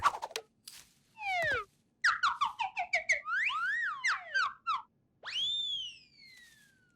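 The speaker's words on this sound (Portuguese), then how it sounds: "De onde saíram esses assobios engraçados?" A cartoon character's whistling device gives out a run of funny, wobbling whistle tones, some gliding up and down, in short bursts and longer sweeps, loud and close, with no talk.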